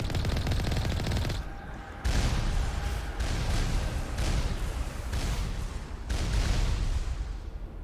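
Sustained rapid gunfire from the Mass Effect video game, dense automatic bursts with short gaps, loud and continuous, with no voices over it.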